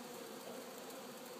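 Honeybees in a hive during an inspection, being dosed against Varroa mites, make a steady, faint buzzing hum, a continuous drone of many insects heard close without voices.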